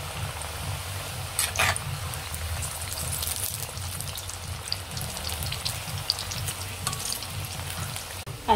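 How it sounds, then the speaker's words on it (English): Dough for Diwali sizzling and crackling in hot oil, a steady frying hiss with occasional louder pops and stirring sounds, no talking. "Are we gonna start frying"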